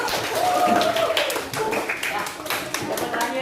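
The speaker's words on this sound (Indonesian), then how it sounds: "Tepuk tangan dulu" Pupils in a classroom applaud after a presentation, a busy, irregular run of hand claps with children's voices under it throughout.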